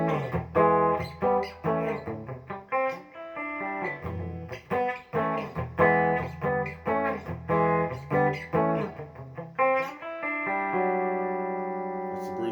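An EVH Wolfgang electric guitar with a basswood and maple body, played on the bridge pickup, runs through a riff of clipped chords and notes before ending on a sustained ringing chord.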